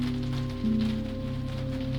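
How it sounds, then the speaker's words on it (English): Rain falls on a railway station's glass roof as a soft, even patter beneath a steady humming drone, gentle and continuous throughout. "The rain created a gentle percussion on the station's glass roof"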